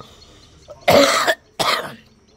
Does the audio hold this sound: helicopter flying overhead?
no